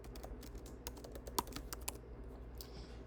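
Quick, irregular clicking of keys on a computer keyboard as someone types a blog post, steady and close with a few louder taps and no voices.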